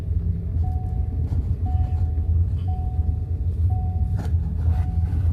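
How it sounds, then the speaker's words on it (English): A company truck driving along a road, its steady low engine and road rumble continuous throughout, with a faint repeating tone and a few brief clicks and knocks inside the cab. "This is the company truck, and I'm taking you on the trip that I take"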